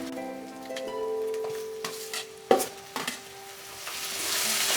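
Tomato fries in a pan, a soft sizzle under sharp stirring scrapes and a couple of utensil clinks against the metal, fairly quiet overall.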